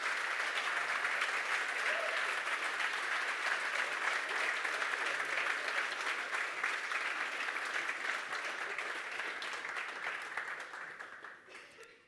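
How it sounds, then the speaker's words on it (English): A conference audience applauds award winners at an evening ceremony, steady dense clapping filling the room for about eleven seconds before tapering off at the end. "let's give another round of applause to our Dedication Award winners of this evening."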